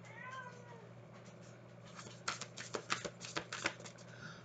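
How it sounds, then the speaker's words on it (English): A cat meows a few times close by while a herding dog harasses it, followed by a burst of scuffling, scratching clatter as the animals tussle. "Leave that cat alone, please."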